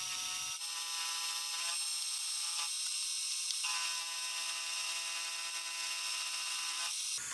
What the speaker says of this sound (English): I'll now drill a step down for the broach to seat in.